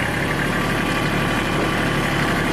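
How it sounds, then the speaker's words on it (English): Kubota tractor engine running steadily with a dense, continuous low rumble and vibration, loud and close, with no distinct shift clunks standing out and no talk. "And when you shift the gear, very harsh shifts."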